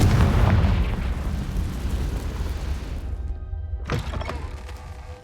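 A Confringo spell explosion in Hogwarts Legacy lands as a loud, deep rumbling blast that rolls on and fades, followed by a brief sharp crack near the end.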